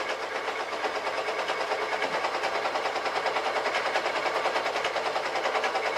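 A serger sewing machine stitches the fabric of a pillbox hat, a fast, steady mechanical whirring with a rapid, even rattle running continuously and close, with no talking.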